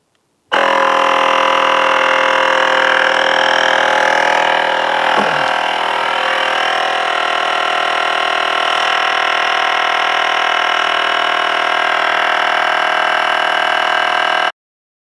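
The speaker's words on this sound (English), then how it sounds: "Let's go ahead and turn the pump on again and give it a whirl." A LokiThor JP400 air pump inflates a tire on a Ford F350 diesel, a loud, steady droning hum with a strong tonal whine that runs continuously for about fourteen seconds before cutting off.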